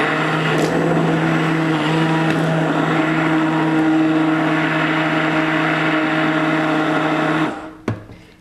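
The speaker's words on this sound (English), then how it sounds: "We're going to puree the soup until it's smooth" A blender purees roasted red pepper and carrot soup with a loud, steady motor whir and a strong hum that holds for about seven seconds, then shuts off and winds down, followed by a single short clunk.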